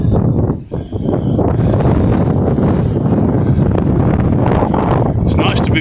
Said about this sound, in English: Very, very cold and windy.